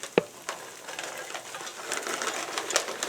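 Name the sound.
browned ground beef and onions sizzling in pot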